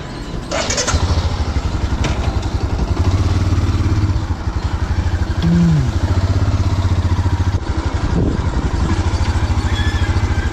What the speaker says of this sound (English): My bike's making every kind of noise.